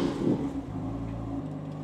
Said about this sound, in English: Now we're gonna start the engine.